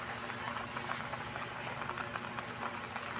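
Beef skin broth with lemongrass boils hard in a cooking pot, a steady close bubbling and sputtering that runs throughout.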